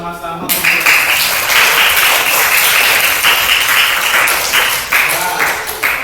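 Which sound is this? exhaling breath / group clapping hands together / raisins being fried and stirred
group clapping hands together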